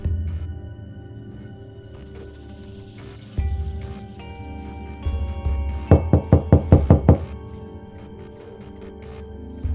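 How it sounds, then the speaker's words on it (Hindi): Knocking on a wooden door in a village house, several sharp knocks in bursts, with a fast loud run of about seven raps near the end, over faint background music. "देखो कोई दरवाजे पर है।"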